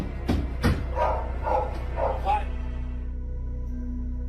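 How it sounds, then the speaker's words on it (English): Dogs bark in security footage, several sharp loud barks in quick succession over a steady low background hum, fading out after a couple of seconds. "The woman says the dogs were barking loudly without stopping, unlike anything they had ever done before."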